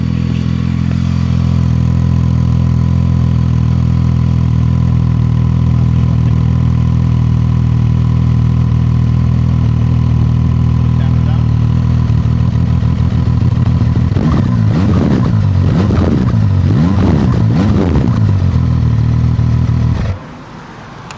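A Zontes ZT 703F adventure motorcycle's three-cylinder engine idles close to the microphone, a loud steady low burble that swells briefly in a few throttle blips near the end before the engine cuts off, no talking.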